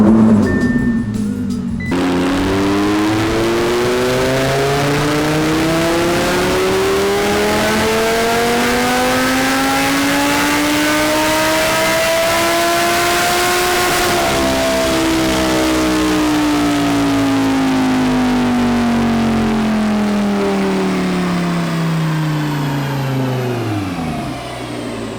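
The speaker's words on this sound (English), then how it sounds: "So we're going to dyno the car right now, check the power with the Supercharger." A supercharged Audi R8 V10 pulls hard on a dyno, its engine note rising smoothly through the gears in one long loud sweep over about twelve seconds, then falling away as it winds down.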